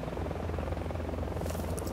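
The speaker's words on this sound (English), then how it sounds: "Oh shit, they got a chopper." A helicopter in the video game Cognition gives a steady low rotor thrum and engine buzz. The sound is continuous and moderately loud, with faint higher tones near the end and no voices.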